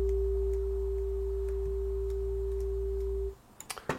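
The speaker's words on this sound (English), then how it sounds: "So we're hearing two different tones." Two steady sine tones of different pitch sound together in a sound installation, one much higher than the other; both hold evenly, then cut off near the end, leaving faint clicks.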